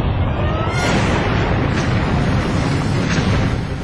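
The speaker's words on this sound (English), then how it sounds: "The heat of the explosion is so intense it melts their windshields and tire rims." Huge explosion from a Delta rocket launch accident: a loud, sustained roaring blast with deep rumble, continuous and dense for the whole few seconds, with no voices.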